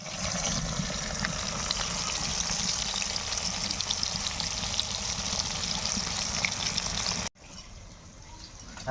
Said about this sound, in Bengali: তেল গরম হয়ে গেছে, মাছগুলো ভেজে নিই।